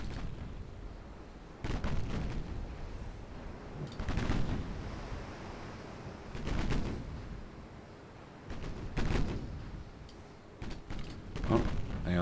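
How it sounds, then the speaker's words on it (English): Warships in a British naval campaign video game returning gunfire, a series of heavy booming shots and rumbling blasts spaced a couple of seconds apart over a creaking background. "Oh, they are returning fire."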